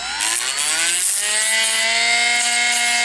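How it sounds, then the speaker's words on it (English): Dremel rotary tool grinding down snagging puzzle pieces, a steady high-pitched whine that rises slightly in pitch and holds loud and close throughout, with no talking. "so I'm just going to take the Dremel"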